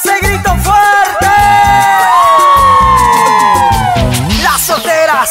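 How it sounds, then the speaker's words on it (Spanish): A loud crowd of single women shrieks and cheers together at a concert, high-pitched whoops and yells rising over a thumping music beat. "solteras a ver ese grito fuerte"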